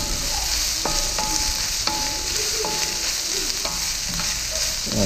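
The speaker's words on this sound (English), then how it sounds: "I'm going to saute this for about 3 to 5 minutes." Onion sautés in a pan with a steady close sizzle, and a utensil stirs with several light scraping taps over the frying. No one speaks.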